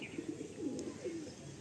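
Soft, low cooing from pigeons at a market stall selling the birds, including a white Kakji pigeon, carries through a noisy hum with a few faint chirps.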